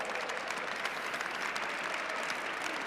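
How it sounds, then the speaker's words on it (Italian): Audience applause welcoming students to a school event at a regional remembrance day for mafia victims, a steady dense wash of clapping from a crowd, sustained and even throughout. "facciamogli un bel applauso"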